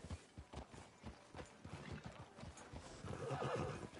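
A horse in a video game clops along in steady hoofbeats, then lets out a loud whinny near the end, close and clear with no talking.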